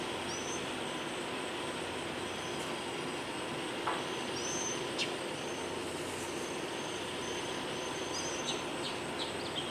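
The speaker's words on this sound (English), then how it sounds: "listening to the birds sing" Faint birdsong drifts through a quiet outdoor morning in Florida: scattered short chirps and whistles over a steady background hiss, fairly distant and with no talk.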